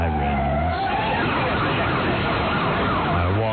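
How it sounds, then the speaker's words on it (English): Warning sirens sound a wailing, rising and falling tone to alert people of an incoming attack, loud and continuous throughout, with a steady low hum beneath. "Now people are being alerted that there's incoming. Our sounds, our sirens."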